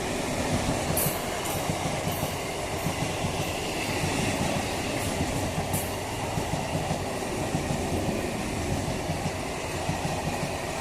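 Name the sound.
Sealdah Ranaghat local train passing Kanchrapara Workshop Gate station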